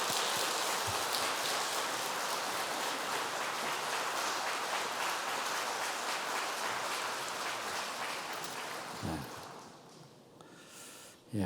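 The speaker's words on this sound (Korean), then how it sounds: "박수로 모시겠습니다." A congregation applauds at a church revival dawn service, a dense, steady patter of clapping that fills the room for about nine seconds and then thins out into a few scattered claps.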